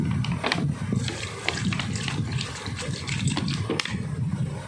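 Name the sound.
washing dried mango and aloo bukhara plums under water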